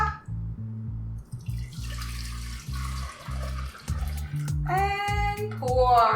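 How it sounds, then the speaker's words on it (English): Thick, milky chocolate pie filling is poured from a container back into a pot on the stove, making low, gurgling glugs in uneven bursts, followed by a few light clinks and sloshes near the end. "We gotta pour it back in the pot"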